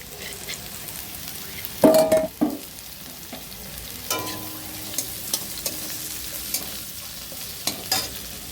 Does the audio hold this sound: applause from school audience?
no